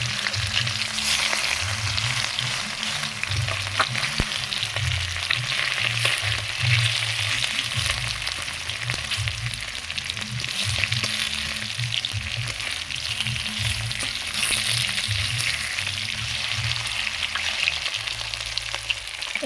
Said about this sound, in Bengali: এই মাছগুলো ভেজে নিয়ে তারপরে আরও কিছু মাছ ভেজে নেব।